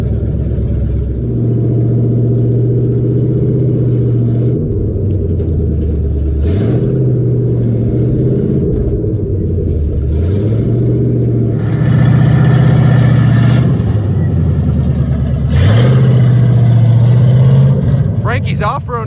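The truck called Frankenstein drives off-road in the desert, its engine droning loud and close with repeated rising and falling revs, while people talk over the sound.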